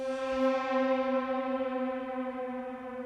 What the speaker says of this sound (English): we're going to use the Eventide Shimmer Verb because it is pitch shifters within a reverb